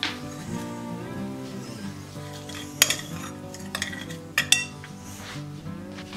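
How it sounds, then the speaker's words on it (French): A spoon scrapes and clinks in a bowl as seasoned ingredients with pepper, salt, garlic pieces and parsley are mixed together, with a few sharper knocks against the bowl under steady background music. "Je mélange bien le tout"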